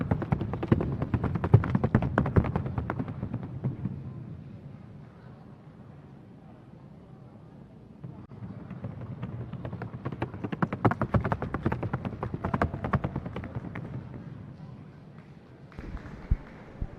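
Paso Fino horses' hooves drum rapidly across a wooden sounding board at a show, a fast, even clatter that swells, fades and returns, heard close with light wind noise.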